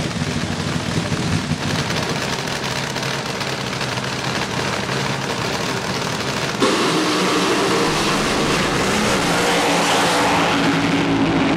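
A nostalgia top fuel dragster roars down the drag strip, a loud continuous blasting engine howl that shifts in tone partway through as it passes, heard from the track side without commentary.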